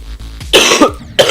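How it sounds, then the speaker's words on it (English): A man coughs close to the microphone, two or three harsh, throaty bursts with short gaps, sounding dry and slightly strained. "Now that was a cough."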